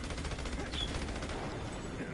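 Rapid bursts of gunfire from the video game Battleborn, a dense, continuous crackle of shots that stays loud and busy throughout the short stretch.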